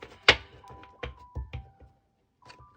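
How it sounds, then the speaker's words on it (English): A tarot deck being shuffled by hand, with a sharp card slap followed by several softer irregular taps and riffles close to the microphone in a quiet room. "I'm gonna give this a few good shuffles."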